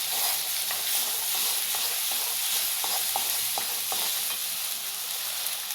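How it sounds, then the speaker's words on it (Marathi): Onion, coconut, ginger, garlic and coriander paste frying in oil for a Konkani fish curry, a steady close sizzle with soft stirring scrapes scattered throughout. "आपल्याला हे थोडं परतून घ्यायचं आहे तेलावर."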